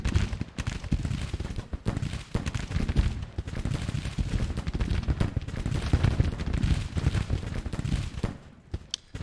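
Civil War troopers fire a dense, continuous musket volley in a strategy video game, a rolling crackle of many overlapping shots at mid distance that stays loud throughout and thins out near the end.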